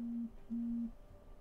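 A mobile phone sounds two low, quiet electronic tones, a short one followed by a longer one after a brief gap, under a faint background hum.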